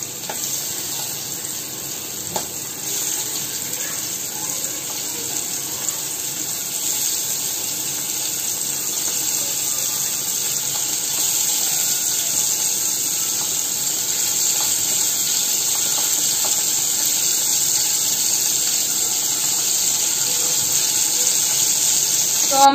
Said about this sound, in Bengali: তো আমি এই যে সরষের তেল এখানে গরম করতে দিয়ে দিয়েছি এবার আমি এই যে চিংড়িটা এক এক করে দিয়ে দেবো ভাজার জন্য